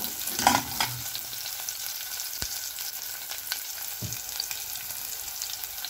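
Sliced shallots and garlic sautéing in oil for bottle gourd kootu, a quiet continuous sizzle with a few spatula stirs and light clinks, close with no talk.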